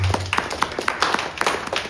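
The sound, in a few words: audience clapping for Uganda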